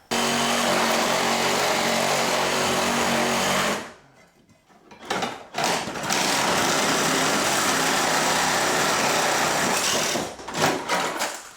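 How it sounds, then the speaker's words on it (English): A power tool blade whines loudly and steadily while cutting behind a metal plate fixed to a wall stud during a home rebuild, cutting out briefly around the middle before resuming with short stutters at the end. "if I can get my blade behind the metal plate and cut whatever's holding it to the stud, it should slide out"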